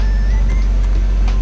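A 1987 Jeep Wrangler YJ engine idles steadily just after starting, a loud, close, low rumble held throughout.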